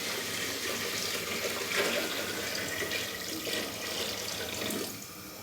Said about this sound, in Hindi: तो अभी मैं इसके अंदर डालूँगा पानी।